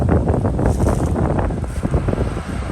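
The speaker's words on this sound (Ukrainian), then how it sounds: "Вітер сьогодні такий осінній." Strong autumn wind roars steadily across the microphone outdoors in a field during harvest, a continuous low buffeting rumble with no pauses.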